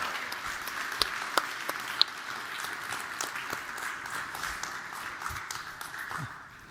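Applause from a conference audience for panelists at an Open RAN industry summit, a broad wash of clapping from a fairly large crowd with a few sharper nearby claps, fading out at the end.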